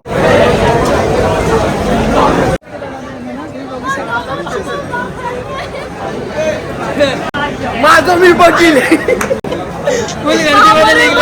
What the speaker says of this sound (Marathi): फुल गर्दी बघा